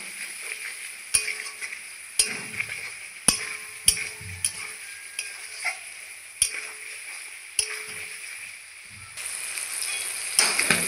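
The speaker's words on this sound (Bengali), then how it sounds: "ভালো করে একটু কষিয়ে নেব।" Chicken gizzards sautéing in oil with a soft background sizzle, broken by repeated sharp clicks and knocks of a utensil against the pan at uneven intervals, close and without talking.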